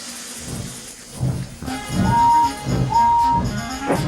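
Two sustained steam whistle blasts sound over hissing, chuffing rail noise, fairly close.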